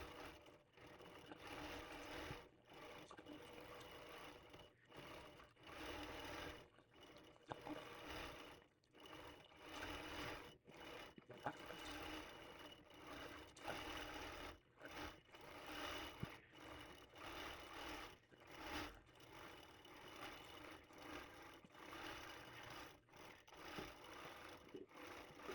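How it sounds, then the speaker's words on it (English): A long arm quilting machine stitches an improv quilt, giving a steady mechanical whirr with rubbing, rasping texture and brief pauses that continues throughout, with no talking. "she is on the long arm machine"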